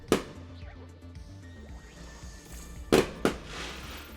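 Fireworks going off in the video game Astro Bot: a sharp burst at the start, then two loud cracking bangs close together near the end, over a quiet bed of game music and whistling tones.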